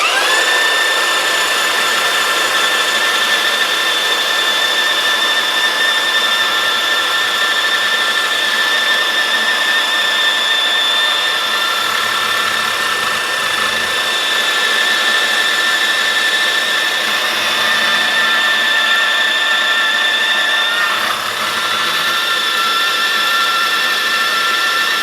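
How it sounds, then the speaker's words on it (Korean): A Bosch GCB 18V-127 cordless band saw cuts through a 25 mm steel rod. It gives a loud, continuous, high-pitched whine and grind that holds steady for the full length, with no talking. "보시 밴드소로 다 잘랐어요"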